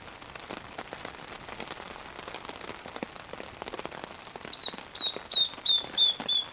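Heavy rain patters steadily on surfaces at a wilderness campsite, a dense even hiss with scattered close drops, and a bird begins chirping repeatedly near the end.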